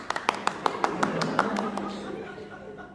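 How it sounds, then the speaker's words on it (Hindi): Audience clapping during a Hindi stage play adaptation of Neil Simon's The Fools: a run of separate sharp claps, slowing and fading into a softer patter with a little chuckling in the room. "वाह, ताली बजाओ।"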